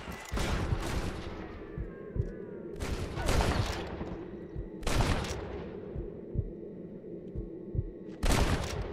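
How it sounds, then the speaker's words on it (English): Gunshots in the Western video game Red Dead Redemption ring out in loud bursts of repeated shots with echoing tails, separated by short gaps and underlaid by a low rumble. "Yeah, I can hear the gunshots."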